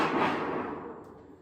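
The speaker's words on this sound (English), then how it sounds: "So a thunder sheet sounds like this." A large thunder sheet tucked inside an antique drum set is shaken once, giving a broad rumbling wash that swells quickly and then slowly fades over about a second and a half.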